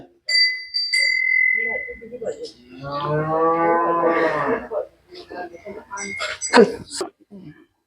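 A Khillar cow moos loudly in a long, deep, drawn-out call, with a few short bell-like rings before it and some brief human voices after.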